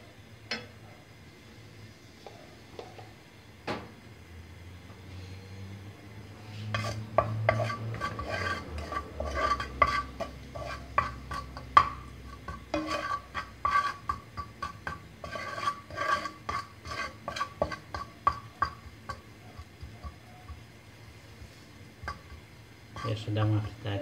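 A spoon scrapes and knocks repeatedly against a pot of rice frying with garlic and salt, with intermittent stirring and faint sizzling underneath, growing busier partway through.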